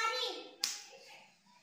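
A child's single sharp hand clap during a Marathi rhyming word game for young pupils, coming just after a child's spoken word, close and brief, with quiet speech fading afterward.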